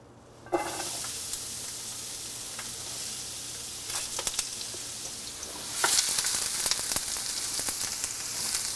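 Onions and minced garlic sizzle steadily in a hot pan for a Jamaican shepherd's pie, the frying hiss jumping up loudly as they go in, with occasional stirring clatter and a louder burst near the end.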